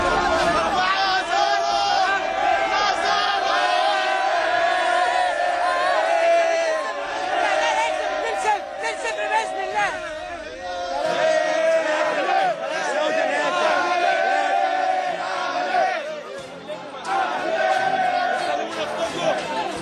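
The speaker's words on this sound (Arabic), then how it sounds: "معنى كده هتفات الجماهير والناس بتغني ازاي" Al Ahly football supporters outside Borg El Arab stadium chant and sing in a dense, continuous crowd roar lasting around twenty seconds, with loud surges of massed voices over a constant babble.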